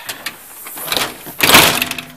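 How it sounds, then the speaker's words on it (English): A screen door swings shut at an Upper Michigan deer camp being closed for the season, a few light knocks leading to one louder slap and rattle near the end. "Screen door shut."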